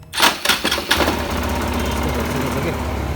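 A faulty motorbike engine idles with a steady, rattling, ticking clatter that runs close and fairly loud for the whole stretch, after a few sharper knocks at the start.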